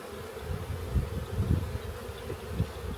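Honey bees buzz around hives in a backyard apiary, a close, continuous, wavering drone with swelling pulses as individual bees pass, with no voices.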